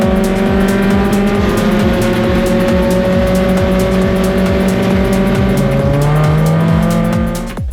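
Race cars at a grassroots Excel national meeting in Australia roar and rev loudly together after a safety car restart, engines surging with rapid gear changes and a falling pitch near the end, with no talking.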